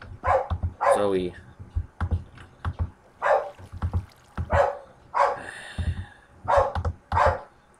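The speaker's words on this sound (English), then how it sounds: "I'm gonna pause it until she stops barking" A dog barks repeatedly close by in short bursts and yips, with a person talking between and over the barks.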